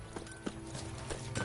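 Hoofbeats of a galloping horse in a video game, steady quick clip-clop thuds close and upfront over a soft continuous background.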